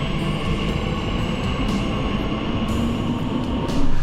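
A London Underground train waits at a platform behind screen doors, giving a steady rumbling hum with a faint high whine and small clunks, and it swells a little at the end.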